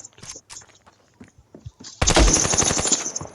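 Gunfire in the mobile shooter game Standoff 2: after a quiet stretch of faint clicks, a loud rapid automatic burst rattles on continuously.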